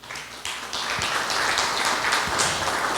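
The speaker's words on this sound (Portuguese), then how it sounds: "Salve de palmas para ele, por favor." Audience applause after a speaker at a talk, dense clapping that starts thin and swells into steady, full clapping from a crowd in a hall.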